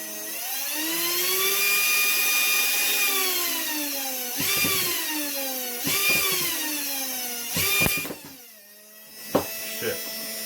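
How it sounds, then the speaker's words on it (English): A 12 volt cordless drill motor runs from a homemade brushed speed controller, whining as its pitch rises, holds, then sweeps down and back up several times, with short abrupt cutouts and clicks near the end. "So here's a drill battery motor."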